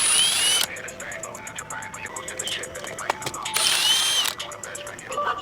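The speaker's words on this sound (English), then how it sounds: "Now I'm actually able to get all the upper intake bolts off instead of just the nuts." A ratchet or power tool loosening upper intake manifold bolts on a Ford F150 during a valve cover gasket job, with two loud whirring bursts and clicking, metallic clatter between them, close up.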